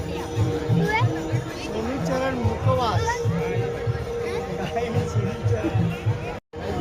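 Sunday crowd at the Malvani festival in Shivai Nagar, Thane, a steady murmur of many voices over a throbbing low rhythmic beat.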